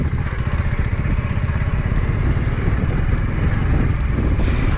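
A motorcycle rides through the Chahar Bagh Phase 2 RUDA housing development, its engine a constant close drone with road rumble and no pause.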